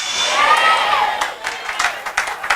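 A church congregation applauds and cheers during a Portuguese-language sermon, an initial burst of crowd voices giving way to scattered sharp claps that thin out toward the end.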